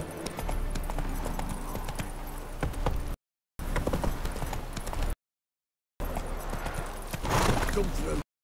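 Geralt's horse Roach galloping in The Witcher 3 on Death March difficulty, a loud, continuous drumming of hooves broken by two short silent gaps, with a voice briefly speaking over the last stretch.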